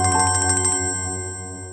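A telephone ringtone plays as a bright, pulsing electronic melody that repeats several quick beeps, then ends and leaves a sustained tone over a low steady hum, loud and close within a domestic scene.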